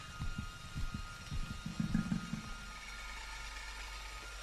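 A slow, muffled heartbeat from a scene in Disney's Tarzan, several soft low thumps in a steady rhythm over a faint hum, which fade out midway.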